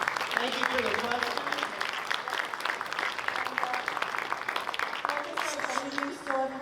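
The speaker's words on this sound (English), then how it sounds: "a round of applause" An audience at an anime convention panel claps steadily at moderate volume, with voices talking over the applause throughout.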